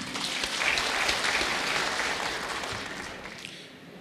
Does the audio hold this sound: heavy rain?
no